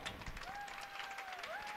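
An audience at a dance school closing event claps for the young Predanza 1 dance group, soft steady applause with a faint whistling tone over it.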